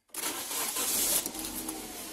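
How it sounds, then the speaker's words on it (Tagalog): A car engine starts up during a MAF sensor test with a voltmeter, a sudden cranking catch that settles into a steady close running hum with a slight rattle, moderately loud and with no talking. "start ko na itong makina"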